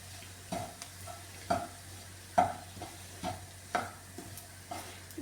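Grated coconut and spice powders are stirred in a hot pan for a beetroot fry, each spoon stroke giving a soft scrape and faint sizzle, repeated at a slow, even pace under a quiet background hum.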